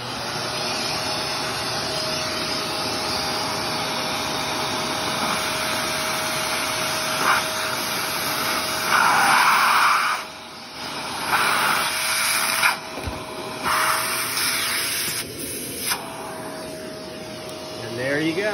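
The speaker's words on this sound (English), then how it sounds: "take the vacuum and just slowly push it up until that suction gets right to there and it'll pop out the dome." A vacuum cleaner hums loudly and steadily as its suction is used to pull a dented speaker dome back out. Brief rubbing and shifting noises come near the end.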